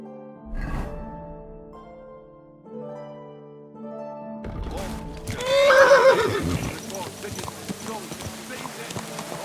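A horse neighs loudly in Kingdom Come: Deliverance II, a long whinny rising to a peak amid hoof clops and a lively market scene, with people talking before it.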